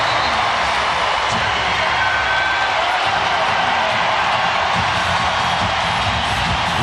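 A basketball arena crowd at an Oklahoma City Thunder game roars steadily, a dense, sustained wash of cheering with no breaks, loud and filling the space.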